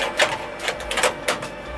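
An embroidery machine stitches a shirt, its needle producing quick, uneven bursts of rapid mechanical clatter with brief pauses between runs.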